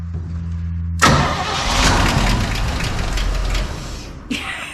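A 1965 Chevy C10 pickup engine cranks and catches abruptly after a low hum, then runs loud and rough with a steady roar for several seconds, a brief rev near the end.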